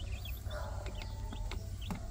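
A hen with newly hatched chicks clucks nearby while the chicks give short, high peeps, all over a low farmyard background hum.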